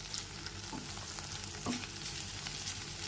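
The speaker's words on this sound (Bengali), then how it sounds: "7 থেকে 8 মিনিট ধরে মশলাটাকে এখানে খুব ভালো করে কষিয়ে নিয়েছি।" Spice paste (masala) sautéing in oil for a vegetarian potato and pointed gourd korma, a steady low sizzle with soft stirring scrapes throughout, close and fairly quiet with no voices.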